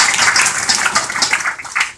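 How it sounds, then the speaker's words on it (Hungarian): Crowd applause at the Hungarian League of Legends Elite final, a dense burst of clapping filling the arena for about two seconds without a break. "Óriási tapsot!"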